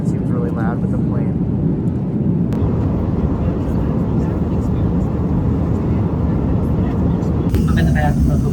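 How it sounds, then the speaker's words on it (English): Steady, loud roar of jet engines and rushing air fills an airplane cabin, heard from inside the plane's bathroom, a constant broadband drone with no breaks. "Not sure if you can hear me because it seems really loud with the plane."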